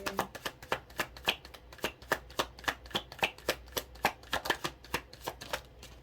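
Tarot cards are shuffled by hand in a quick, even run of crisp riffling slaps, about three or four per second, close and clear. No one talks.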